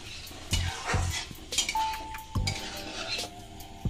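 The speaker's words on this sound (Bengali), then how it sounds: "ডালটা আমি তেলের মধ্যে একটু নাড়িয়ে চাড়িয়ে নেব।" Lentils (dal) being stirred in hot oil in a pan for vegetarian khichdi, with a spoon scraping and clinking against the pan in repeated strokes over a soft, steady sizzle, close up and with no talk.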